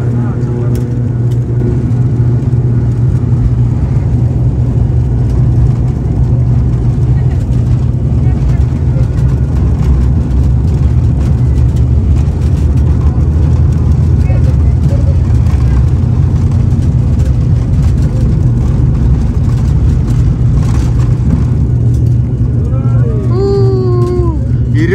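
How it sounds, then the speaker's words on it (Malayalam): A small plane's engine drones at takeoff from a private airport, a loud steady cabin roar heard from inside, with a voice speaking over it. "ഈ വിമാനത്തിൻ്റെ ടേക്ക് ഓഫിൻ്റെ സമയത്ത് കൂടുതൽ മൈലേജ് കിട്ടാൻ വേണ്ടി ആയിരിക്കും AC ഒക്കെ ഓഫ് ചെയ്യുന്നത് അല്ലേ"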